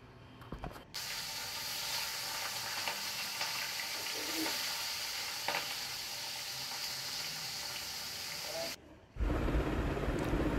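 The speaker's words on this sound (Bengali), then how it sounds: "এরপর ওই তেলেই আমি লম্বা লম্বা করে 4 টুকরো আলু একটু ভেজে নিলাম।" Long strips of potato, four pieces, fry in hot oil in a wok just used for fish, giving a steady close sizzle for most of the time before it cuts off into a different noisy background.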